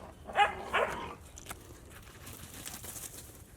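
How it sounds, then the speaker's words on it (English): A puppy gives two quick, fairly faint barks close together, followed by quieter scuffling and background noise outdoors at a truck repair area. "puppy's been mobbing around"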